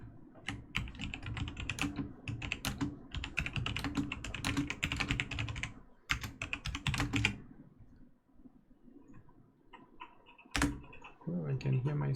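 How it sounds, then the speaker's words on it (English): Computer keyboard typing in bursts of rapid clicks with short gaps, fairly close, with a few louder knocks near the end and some faint background sound. "Oh, I can hear myself typing."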